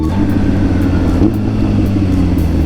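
A Kawasaki ZX6R motorcycle engine runs close and loud with a steady, throaty rumble and slight revving, no voices over it.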